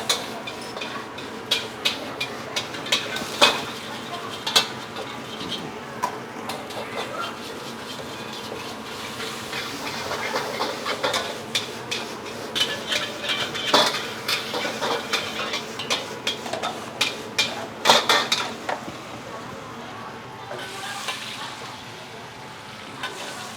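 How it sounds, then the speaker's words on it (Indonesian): Garlic and spring onion stir-fry in a pan, giving a quiet steady sizzle broken by frequent sharp clanks and scrapes of a spatula against the metal. "Bawang putih, bumbu EXO ya, daun bawang ditumis-tumis sampai wangi."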